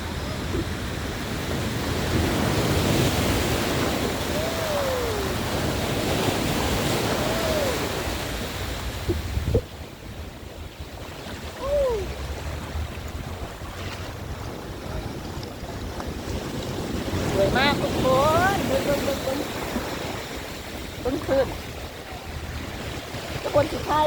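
Strong sea waves at Kalim beach, a loud continuous wash of surf with gusting wind buffeting the microphone, and brief voices in the background.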